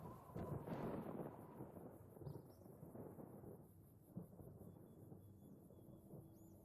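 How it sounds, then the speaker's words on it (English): Rumbling thunder in the video game Fallout: New Vegas, a deep roll that swells early, then slowly fades into a low ambient hum with faint tones of the game. "Right, that sounded like thunder,"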